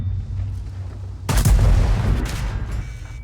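A tank cannon fires in World of Tanks, a single heavy boom that strikes sharply and then rolls and rumbles for a second or two over a low engine drone.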